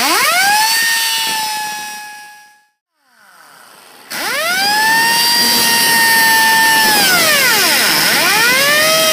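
A power tool cuts off the tail section of a World's Fastest Indian model for an AMCA trophy, giving a loud, close, high whining tone that rises, cuts out briefly, then resumes and sweeps up and down.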